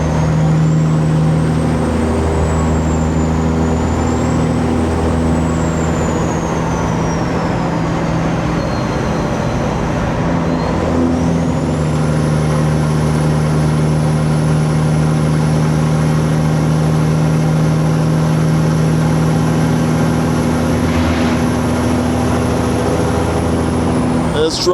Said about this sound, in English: Truck sounds crazy.